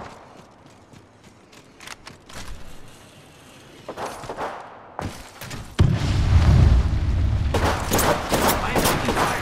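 Video game firefight with scattered gunshots building into heavy sustained fire and booming explosions, growing louder toward the end, with little speech.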